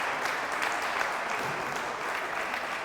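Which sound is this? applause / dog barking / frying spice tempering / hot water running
applause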